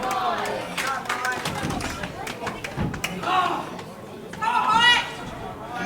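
Crowd at a live wrestling event in Hullbridge cheering and clapping in scattered bursts, mixed with chatter and a commentator's voice over the noise.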